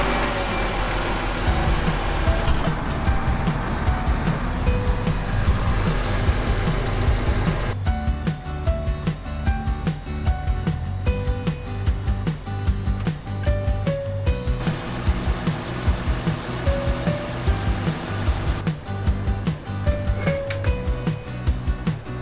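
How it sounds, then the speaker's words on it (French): A farm tractor, an 84-70, idles while warming up during refuelling, a steady low diesel rumble with a continuous engine drone, a few mechanical clicks and shifts in tone partway through. "je vais faire chauffer mon 84-70 en même temps que je fais le plein"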